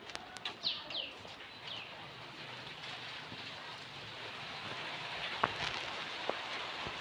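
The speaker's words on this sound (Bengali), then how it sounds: "রান্না না হতে বৃষ্টি শুরু হয়ে গেল" Rain begins falling outdoors where fish is being cooked, a faint steady hiss of drops throughout. A few bright bird chirps stand out near the start, and a couple of sharp taps come later.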